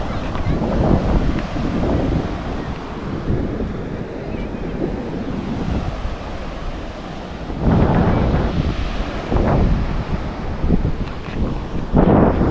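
Ocean surf at Diveagar beach washes in with a broad, steady roar, swelling louder as waves break, mixed with gusty wind buffeting the microphone.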